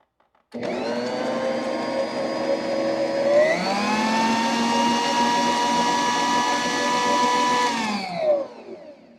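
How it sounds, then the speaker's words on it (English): An electric mixer whirs steadily as it beats butter for a coconut buttercream. The close, loud motor drone steps up in pitch partway through, runs evenly for about eight seconds, then winds down and cuts off. "So I'm going to mix up this butter."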